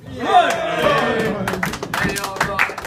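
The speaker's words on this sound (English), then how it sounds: "So a big round of applause for Ryan." A crowd at an end-of-season 2014/15 gathering whoops and cheers loudly, with scattered hand claps and thumps breaking through the voices in the second half.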